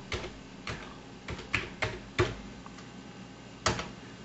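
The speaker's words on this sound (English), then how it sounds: "when I was typing, it didn't look like anything was being entered" Computer keyboard typing while logging in to a remote server through PuTTY: a handful of separate, close key clicks in irregular bursts, with short pauses between them, and no talking.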